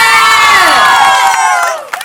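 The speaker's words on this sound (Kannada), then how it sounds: "ಜೋರ ಚಪ್ಪಾಳೆ" A lively crowd of guests at a haldi party game cheers loudly and whoops for the winning team, a close, full burst of shouting that tapers off after about two seconds.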